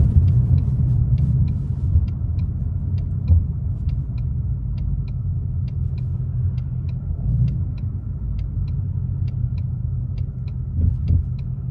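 Steady low rumble from a Ford Mustang GT coasting down after the throttle is released, with even road and engine drone inside the car and a faint regular ticking throughout.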